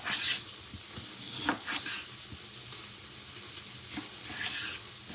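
Onion rings sizzle steadily in a pan at moderate volume, with occasional clicks and scrapes from stirring and handling. No one speaks.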